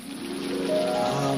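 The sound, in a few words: rain shower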